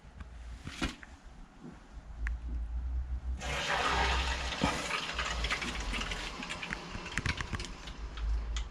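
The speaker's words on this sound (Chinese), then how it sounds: "水龙头打开" A faucet on a Sakura water purifier is opened, and after a few quiet seconds with light clicks, water starts pouring and rushes steadily as a moderate, continuous hiss.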